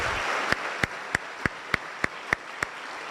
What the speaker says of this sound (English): let's give a round of applause for everything that you all did and our officers did during the storm